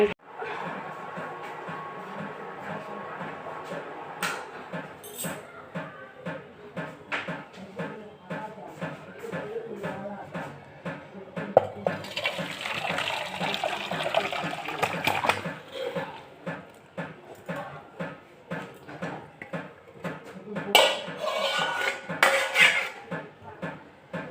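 Dishes and utensils being washed in a home kitchen, steel pots and plates clanking and scraping in quick irregular knocks, close by, with water running through part of it and someone talking over the clatter.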